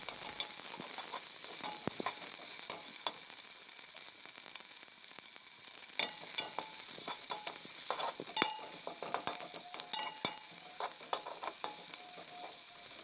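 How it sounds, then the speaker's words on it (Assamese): Onion, green chili and bay leaf fry in mustard oil in a cooking pot, giving a continuous soft sizzle broken by frequent light clinks and scrapes of a spoon stirring. "এতিয়া মই চৰুখন বহাই মিঠাতেল অলপ দি পিয়াজ কেঁচা জলকীয়া আৰু তেজপাত দি দিলো এইখিনি অলপ ভাজি"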